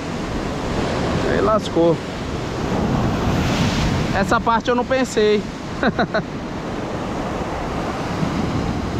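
Sea waves wash over the rocks of a seaside fishing spot in a steady, close, wind-buffeted roar that fills the whole stretch, while someone talks briefly over it.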